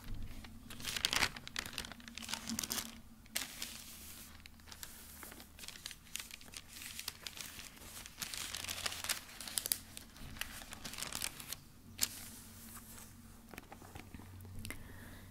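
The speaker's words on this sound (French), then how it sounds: "Je te laisse profiter aussi du son des pages." Repeated papery crinkles and soft swishes of Bible pages being turned, close up and fairly quiet, with a low steady rumble in the background.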